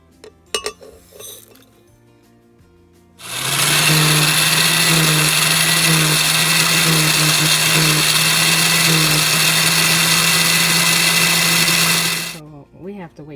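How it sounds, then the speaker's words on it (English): A blender grinds cumin, onion powder, garlic powder, coriander and annatto seeds into a homemade sazon seasoning, a loud, steady motor whir lasting about nine seconds with rattling inside, framed by clinks and brief voices before and after. "Okay, so let's start blending everything in the blender."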